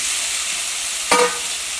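Chopped tomatoes dropped into a pan of frying onions for egg Maggi masala, a sudden loud sizzling burst about halfway through over a constant background fry hiss.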